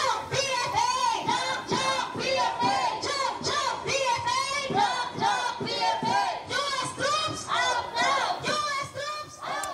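Anti-Trump protesters in the Philippines chanting and shouting in unison, a loud rhythmic crowd chant repeating in regular bursts, close and continuous throughout.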